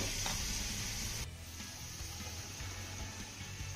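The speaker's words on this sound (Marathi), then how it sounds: "मटार आणि गाजर छान परतून झालं की यामध्ये आपल्याला मिक्सरवरती बारीक केलेली ज्वारी घालायची आहे." Peas and carrots sautéing in a pan, a steady close sizzle with stirring scrapes and a broad frying hiss that continues throughout with no voices.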